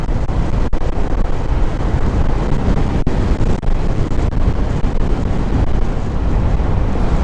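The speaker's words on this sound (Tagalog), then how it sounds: "Medyo mahangin din sa kalsadang to eh" Steady, loud wind buffets the microphone throughout while riding a Honda PCX160 scooter on an open road during a speed run, a broadband roar with brief gust dips.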